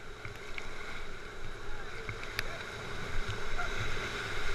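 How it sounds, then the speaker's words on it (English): Paddling a boat on the Chattahoochee River, with soft water splashes and paddle strokes over steady wind and river noise outdoors and faint voices in the background. "make sure you're paddling hard on the left, okay?"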